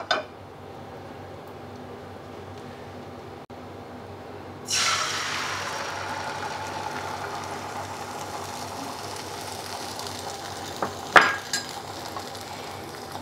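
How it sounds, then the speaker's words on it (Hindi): Omelette frying in oil in a pan, a steady sizzle that starts abruptly partway through and continues loud and close, with a couple of sharp utensil clinks near the end and no talking. "अब हम इसी तेल में ऑमलेट को बनाएंगे"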